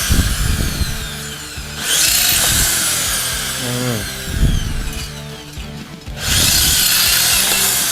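Power drill boring into wood with an improvised homemade bit, loud grinding bursts that start, pause briefly and resume, close up with no talk.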